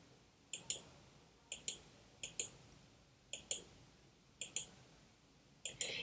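A computer mouse clicks in quick pairs, six double-clicks at a steady pace, crisp and close in an otherwise quiet room with no talking.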